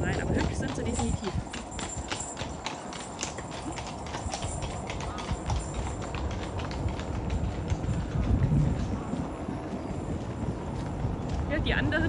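Hooves of a horse-drawn carriage clip-clop steadily at a walking pace on a road near Moritzburg, a continuous rhythmic clatter over street noise with people talking throughout.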